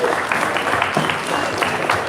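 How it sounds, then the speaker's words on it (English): Crowd applause at a Queensland armwrestling championship, a dense, loud bed of clapping in a hall with some voices mixed in, continuous for the full couple of seconds. "Big round of applause"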